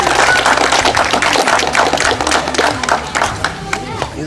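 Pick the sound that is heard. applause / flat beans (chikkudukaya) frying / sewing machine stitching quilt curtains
applause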